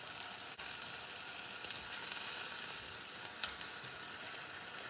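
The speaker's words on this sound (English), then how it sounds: "you hear the sizzling?" Artichokes fry in olive oil with parsley in a pan, Roman style, giving a steady, close hiss of sizzling oil with a couple of small pops and no voices.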